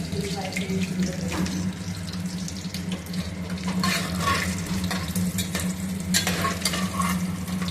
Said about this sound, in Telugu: కొంచెం జీడిపప్పు, వేస్తున్నాను. జీడిపప్పు వేగుతుంటేనే కొంచెం అల్లం